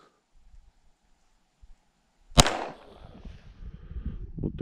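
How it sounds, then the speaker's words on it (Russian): A single sharp shot from a PM-based traumatic (rubber-bullet) pistol cracks out of near silence at a 10-metre range, followed by a short rumbling tail and faint shuffling noises. "Производим выстрел."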